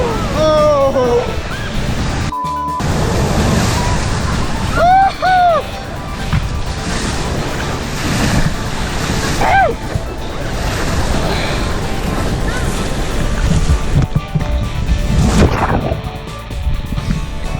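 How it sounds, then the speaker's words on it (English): Rushing river water and crashing waves through Montana rapids, a loud continuous churn with surges and splashes, with voices calling out briefly over the roar. "Oh, those are big waves."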